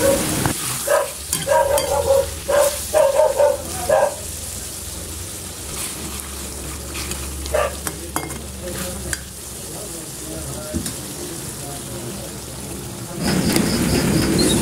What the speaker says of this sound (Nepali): त्यसपछि यसलाई मजाले मिक्स गर्ने र सबैतिर मसलाहरु राख्ने गरी चलाउने।